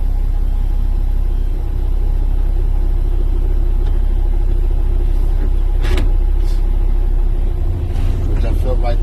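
A semi truck in third gear with trailer brakes released gives a loud, steady, low diesel rumble as the clutch eases out to a tug, while someone talks over it.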